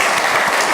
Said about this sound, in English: I'm just going to ask you for a big round of applause for them.